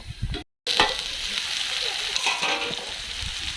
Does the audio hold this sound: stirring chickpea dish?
yes